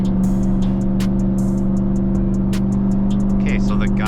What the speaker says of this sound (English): the turbo one, he just wants to spool up and just go